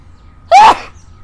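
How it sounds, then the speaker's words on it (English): A single loud, close sneeze bursts out sharply and ends quickly, standing alone against a quiet room background. "Oh, I gotta sneeze."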